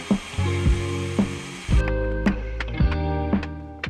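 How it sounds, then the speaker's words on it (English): Festool Domino joiner plunge-cutting holes at a 45-degree angle in wood, a steady motor whine with a series of roughly regular cutting bursts, close and loud with no talk. "Cut the domino holes in 45-degree angle."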